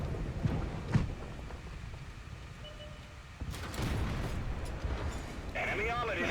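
A tank cannon fires in an armored combat video game, knocking out an enemy KV-1S tank: a couple of short, sharp booms early on, then a swell of heavy rumbling blast noise that keeps going under the other game sounds.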